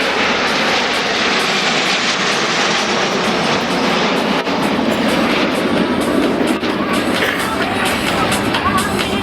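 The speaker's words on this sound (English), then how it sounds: "And now, once again in Canon formation, they will fly in front of you." Patrouille de France jets flying past in Canon formation at the Leuchars Airshow 2011, a loud, continuous broadband roar that holds steady throughout, with airshow commentary speaking over it.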